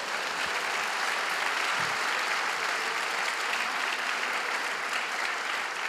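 Audience applause fills a lecture hall after Father Professor Michał Heller's open lecture on the limits of science. The clapping is steady, dense and sustained from start to finish.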